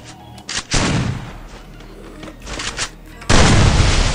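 Gunfire in a shooting video game, with loud sharp bursts and booming shots in uneven clusters, the heaviest volley at the end, all close and dominant.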